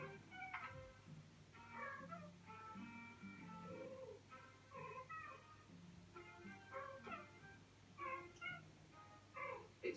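Two cats meowing back and forth on a bed, a quiet exchange of short, varied mews and chirps spread through the stretch, fairly close and faint with no talk.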